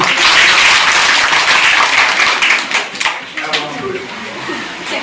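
An audience at a school Junior Red Cross inaugural ceremony claps together in a loud, dense burst of applause that dips midway and then tails off raggedly, close and filling the room.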